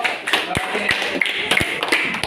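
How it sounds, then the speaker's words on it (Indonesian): A small group claps for a student group in a classroom-style session, a few sharp separate claps and taps at close range, uneven and sparse over murmured voices. "Yo, tepuk tangan untuk kelompok"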